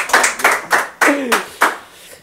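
About six distinct hand claps ring out one by one in a slow, uneven rhythm, close and fairly loud, on a Spanish-language talk show as a round of applause is called for a music guest.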